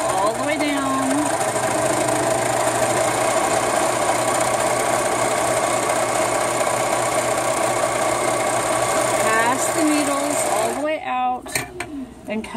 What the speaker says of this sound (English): We're going to sew all the way down.